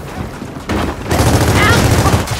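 Rapid gunfire bursts from a Gears of War 4 multiplayer match on the Old Town map, a dense loud volley of game shots that starts after a quieter opening and sustains to the end.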